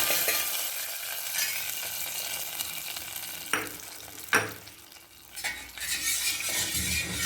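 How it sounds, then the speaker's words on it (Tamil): Hot oil tempering with fennel seeds and curry leaves sizzles and crackles steadily, with a few sharp splashy bursts as it is poured into chicken soup, close by and moderately loud. "சோம்பு நல்லா பொரிஞ்சிட்டு இப்போ கருவேப்பிலை போட்டுக்கோம். சூப்பில் இப்போ கொட்ட வேண்டியதான்."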